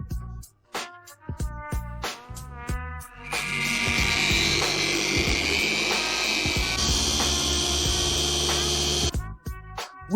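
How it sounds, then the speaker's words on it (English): A car polisher fitted with a harder sponge pad works over scratched paint, a steady high-pitched motor whine that holds for several seconds between short bursts of clatter at the start and end. "I change the harder sponge pad and continue to remove the scratches"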